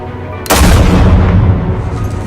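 A single loud gunshot from Batman: The Telltale Series rings out abruptly, its sharp report followed by a long booming reverberant tail, with no talking.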